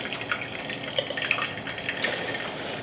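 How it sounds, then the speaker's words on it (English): Grape juice and pulp trickle through a fine mesh strainer into a large bowl, with soft, uneven splashes and drips throughout, close and fairly quiet. "Now I'm going to use a fine mesh strainer and strain it into a large bowl, trying not to splash."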